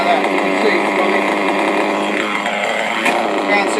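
Petrol engine of a 5b-scale RC car build running steadily, a buzzy, raspy two-stroke drone held close and loud with slight revving near the end.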